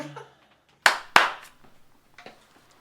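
Two sharp, loud hand claps in quick succession, meant to trigger a clapper switch, with a quiet voice before and faint sounds after.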